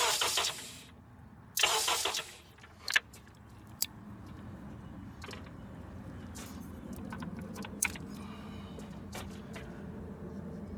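A 2007 Honda CR-V engine cranks in two short bursts from the starter, then catches and settles into a low steady idle that runs on, close-up, with a few faint clicks and knocks over the hum.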